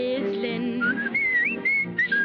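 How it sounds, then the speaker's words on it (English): A person whistles a bright, cheerful tune of rising and falling melodic notes over a lively 1941 big-band style musical accompaniment, the whistling clear and prominent across the passage. "I'm up at the crack of dawn whistling"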